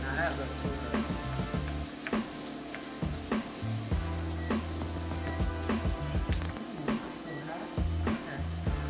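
Onions sizzle steadily in a hot pan for seafood baked potatoes, a continuous close frying hiss with recurring soft stirring clicks and scrapes, no talking over it.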